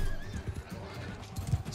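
Horses in Mount & Blade II: Bannerlord gallop with a steady clip-clop of hooves and a whinny during a cavalry battle, loud and close, with brief voice sounds in the mix.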